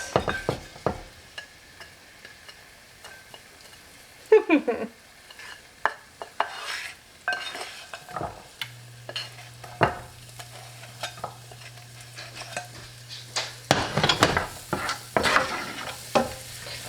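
Shallot and asparagus sizzling in a pan of oil and butter, with a steady frying hiss under repeated stirring scrapes and utensil clinks against the pan, plus a sustained low hum partway through.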